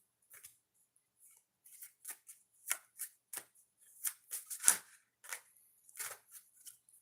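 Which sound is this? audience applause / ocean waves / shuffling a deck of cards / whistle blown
shuffling a deck of cards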